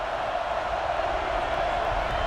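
Stadium crowd in the NCAA Football 09 video game roaring with a steady, loud wash of cheering that continues unbroken, with no voice on top.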